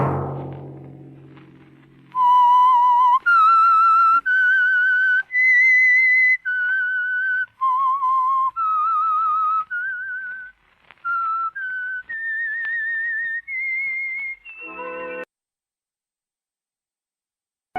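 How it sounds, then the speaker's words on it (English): A lone whistler carries the eerie theme melody of The Whistler radio mystery, clear sustained notes rising and falling in a slow tune, alone after a brief low murmur at the start. "Whistle be your signal for the Signal Oil program, The Whistler"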